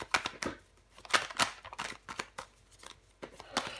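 Tarot cards are handled and laid down, a run of crisp papery flicks, slides and soft taps in an irregular rhythm, close and fairly quiet.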